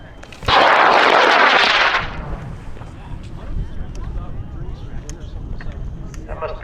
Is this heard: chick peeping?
no